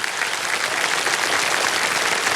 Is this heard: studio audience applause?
yes